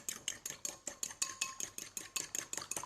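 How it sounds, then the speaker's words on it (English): Eggs, including a double yolk, are whisked briskly in a bowl for a Welsh bara brith tea cake, a quick steady train of light clicking strokes, close and fairly quiet. "Give it a good whisk"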